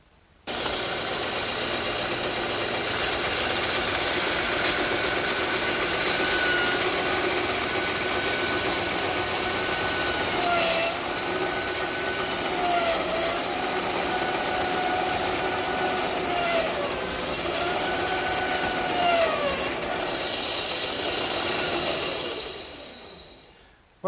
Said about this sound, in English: I think I'll cut them over on the bandsaw.